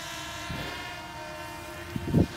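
A small drone hovers nearby with a steady, even motor whine, holding a constant pitch, with a brief low thump near the end.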